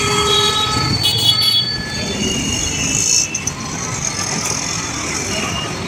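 Dense vehicle traffic on a busy road in Varanasi. A steady loud roar of passing vehicles runs throughout, with horn toots and a brief squeal in the middle.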